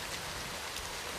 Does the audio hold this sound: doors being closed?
no